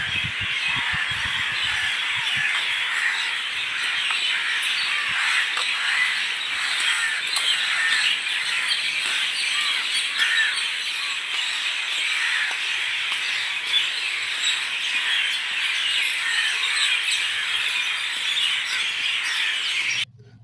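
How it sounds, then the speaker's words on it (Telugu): Outdoors in the early morning, many birds call together in a dense, continuous chorus of high chirps and twitters that holds fairly loud and steady with no talk before cutting off abruptly. "ఆ బర్డ్స్ అనేవి సౌండ్స్ చేస్తుంటే ఎంతో ఆనందంగా ఉంది."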